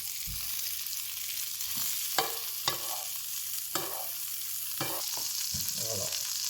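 Courgette flowers and prawns searing in a hot pan, a steady close sizzle broken by several sharp spits and scrapes as the food is stirred and turned; no one speaks.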